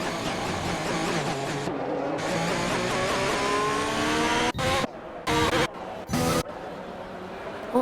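Ferrari Formula 1 race car in an F1 esports racing game, engine droning with rising harmonic sweeps as it accelerates, broken near the end by abrupt cuts and bursts; a voice talks over it.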